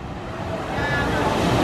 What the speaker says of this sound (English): the log flume ready to come down here